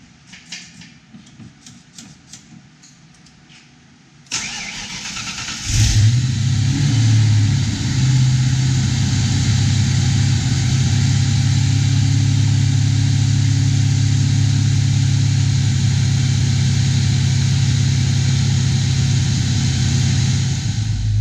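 A few clicks and a brief crank, then a 1992 Ford Mustang GT V8 with a cold air intake and bigger throttle body fires and revs before settling into a loud, deep, steady high idle near 2,000 rpm.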